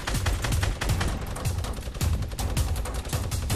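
Rapid bursts of automatic gunfire crackle in a Fortnite Battle Royale firefight, loud and close, shots overlapping in quick uneven volleys throughout.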